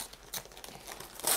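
Soft crinkling and a quick tearing rustle of paper wrapping as a package is carefully cut open, close and quiet, with a brighter crackle near the end.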